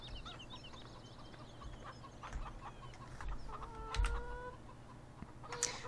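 Chickens cluck in the video game Farming Simulator 17. The clucks come in scattered bursts over a steady low background hum.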